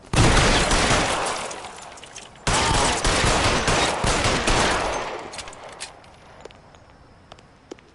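Dense bursts of gunfire in the video game L.A. Noire, loud and rapid for several seconds, then thinning into scattered, fading shots and clatter toward the end.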